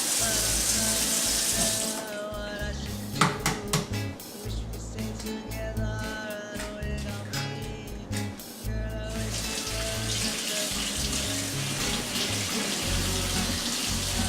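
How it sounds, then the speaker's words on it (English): Tap water runs steadily into a sink as egg cups are rinsed under it, the flow dipping and splashing unevenly midway before settling back to a constant gush. "and rinse them out."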